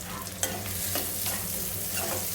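Onions fry in a pan with oil and curry leaves for egg biryani, a continuous soft sizzle with stirring scrapes and a sharp spatula knock early on.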